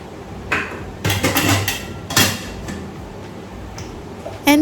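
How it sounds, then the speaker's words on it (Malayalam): Dishes and pots clatter and clank close by as a pile of kitchen utensils gets washed, with irregular sharp knocks and scrapes coming in uneven bursts. "കുറേ പാത്രങ്ങൾ കഴുകാനായിട്ടുണ്ട്"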